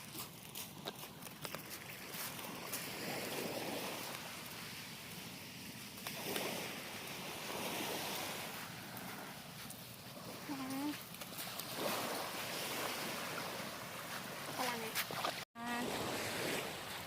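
Steady broadband wash of sea waves rolling in at a Marinduque beach, with wind and occasional distant voices over the surf.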